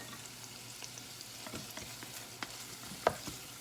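Cheese dip ingredients fry in a pan while being stirred, giving a quiet, steady sizzle with soft scraping and a few small clicks of the utensil against the pan.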